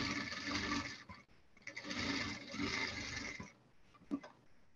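Sewing machine running in two steady bursts while stitching a seam on a patchwork bib, a close whirring drone with a brief pause between runs and small handling clicks afterward.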